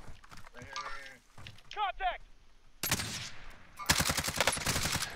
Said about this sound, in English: They're shooting to the right.